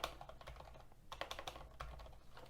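Close, steady computer keyboard typing in a quick irregular patter of keystrokes, ending with a key combination pressed while coding in Android Studio, with no voices.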